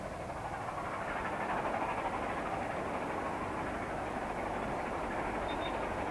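LNER A4 Mallard steam locomotive climbs the Settle and Carlisle line past Mallerstang Common, heard as a faint, steady, continuous rumble from a distance with no voices.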